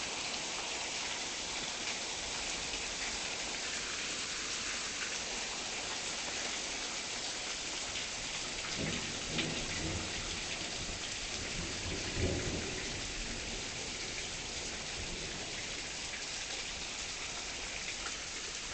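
Thunderstorm with steady rain in Tulsa, Oklahoma: a dense, constant hiss of rainfall on surfaces, with low rumbles of thunder swelling twice in the middle, and no voices.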